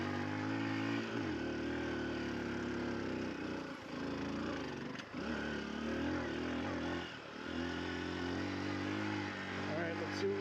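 Honda XR150L motorcycle engine held in first gear and revved while climbing a steep off-road hill, a steady close drone with brief dips and surges, with speech over it.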